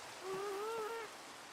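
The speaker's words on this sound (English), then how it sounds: "We're hanging out in the rain thinking right now" Steady rain hisses in a hardcore Minecraft world, with a brief wavering tonal call rising over it midway before fading.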